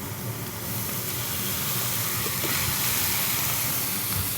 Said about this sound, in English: And just let it steam.